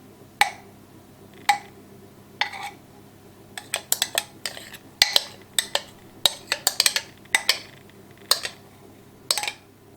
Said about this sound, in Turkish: helvalarımı çömleklerimin içerisine koydum